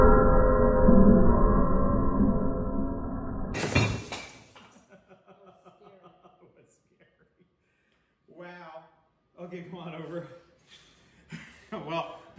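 A Lego suspension bridge loaded to about 80 pounds gives way. Loud cracking and clattering sound as the plastic pieces break apart and scatter, then the rattle tapers off and people talk and react over the sparse leftover clinks.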